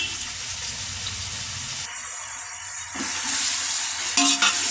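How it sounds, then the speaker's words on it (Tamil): Onions sauté in hot oil for vegetable biryani, giving a continuous close sizzle with stirring scrapes. A brief water-like hiss rises midway, and a few sharper clatters come near the end. "இப்போ இது நல்லா கோல்டன் கலரில் நல்லா வதங்கி வரட்டும்."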